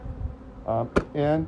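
Agitated honeybees buzz loudly during a hive inspection where some bees were crushed, with several surging buzzing bursts close to the listener, a sharp tap between them and a brief word spoken.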